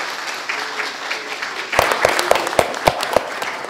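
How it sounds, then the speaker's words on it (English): Applause after a community talk: a murmuring room builds into a burst of clapping partway through, with several sharp, distinct claps standing out over a steady patter of hands. "So a big round of applause for Sandy for her work."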